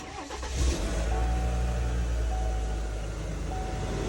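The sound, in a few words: Chevrolet Silverado 1500 2.7 turbo engine running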